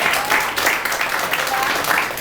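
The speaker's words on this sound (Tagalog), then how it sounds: "Palakpak naman natin." Audience clapping with a continuous, fairly loud burst of applause from many hands, steady throughout its brief span.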